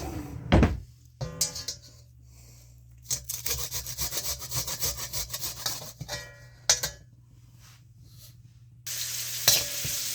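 Garlic grated into hot oil in a wok sizzles in bursts, with broadband hissing and scraping from stirring, pausing briefly between loud close spells of frying.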